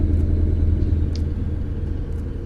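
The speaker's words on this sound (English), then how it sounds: "you can make a Volvo sound pretty cool, but it's still an inline six" An inline-six Volvo truck engine in American Truck Simulator rumbles steadily in a low, even drone, with no voices over it.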